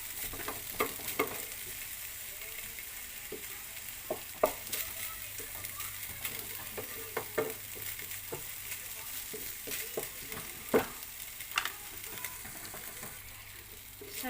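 Thin-cut chicken tocino frying in a pan, a steady close sizzle broken by frequent scraping and stirring clatter, with no talk over it.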